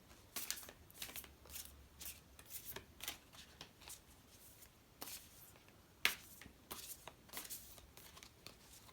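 A deck of Beyond Lemuria oracle cards is shuffled by hand in a quiet, close ASMR setting, producing soft, rapid riffling taps and flicks in irregular bursts.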